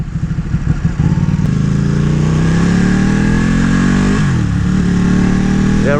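A 2014 Ducati Panigale 1199R sport bike pulls away and builds speed, its engine note climbing steadily through the gears with a brief dip and renewed rise, loud and close throughout.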